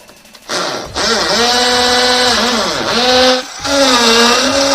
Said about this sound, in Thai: ก็มาร์กดินสอไว้แล้วก็เจาะฝังปุ๊กนะครับ 2 จุด